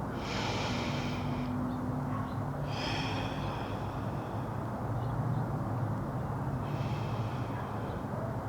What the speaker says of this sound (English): 3 big breaths and we're out of here